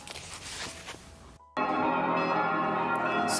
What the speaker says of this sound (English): Sorry for the church bells.